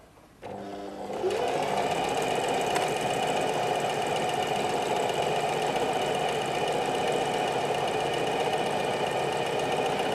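A Singer Heavy Duty 4423 sewing machine starts up after a short quiet moment and runs at a steady, fast, loud mechanical whir of continuous stitching, close by, with no talking.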